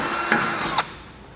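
A power drill bores mounting holes for a small LED side marker and clearance light. The drill whirs steadily for under a second, with a couple of sharp bites, then cuts off abruptly, leaving quiet room tone.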